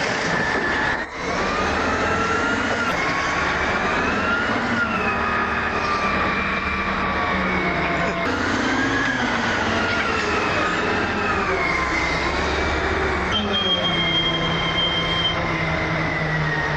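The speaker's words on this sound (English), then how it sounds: "The ARP shredder runs at 250 kilowatts," An ARP industrial shredder rated at 250 kilowatts crushes scrap with a loud, continuous grinding roar. Shifting metallic squeals and groans ride over a heavy low rumble, close and unbroken throughout.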